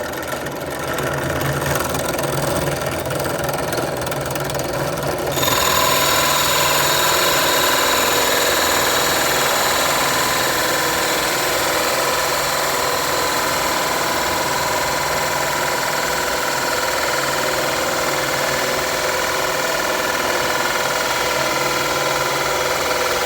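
A holesaw bores a circle through wood, its motor holding a steady loud drone with grinding cut noise for over twenty seconds, shifting slightly in tone early on.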